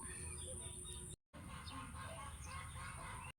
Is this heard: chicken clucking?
yes